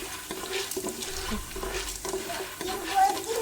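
Popcorn kernels being stirred in oil in a pan, giving steady scraping and stirring sounds over a soft frying hiss, close by and continuous, with no voice.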